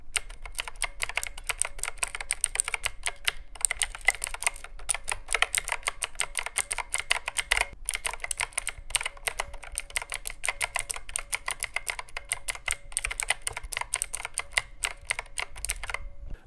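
Rapid typing on a computer keyboard, a dense, continuous patter of close-up key clicks with no voices.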